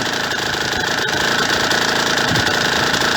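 A cold Yamaha DT motorcycle engine idles while warming up, a steady close putter with a rapid, even firing rhythm and no revving.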